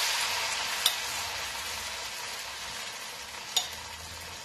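Spoonfuls of potato bhaji batter drop into hot frying oil, bringing a steady close sizzle with two sharper splashy crackles standing out about three seconds apart.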